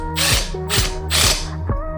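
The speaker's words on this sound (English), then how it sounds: "Go ahead and tighten the wheel down." A ratchet wrench tightens the nut on a wheel of an Extreme Sim Racing ESR 4.0 simulator chassis, four crisp, close clicking ratchet strokes in a steady rhythm with no talking.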